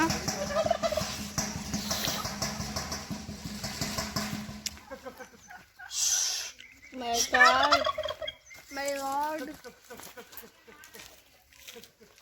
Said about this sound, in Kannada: ಕೋಳಿಗಳು ಊಟ ಹಾಕಿದ ತಕ್ಷಣ ಬರ್ತಾವೆಲ್ಲ